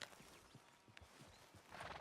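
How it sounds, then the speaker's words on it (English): Quiet, evenly spaced hoof clops of a horse walking in the video game Red Dead Redemption 2, a soft rhythm close by, with a brief rustle at the end. "my horse is following me"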